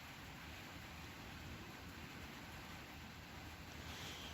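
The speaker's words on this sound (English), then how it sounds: "Sorry about the rain coming down outside, you can hear that." Steady, dense rushing of heavy rain falling outside, a constant broadband hiss that stays even throughout with no voices.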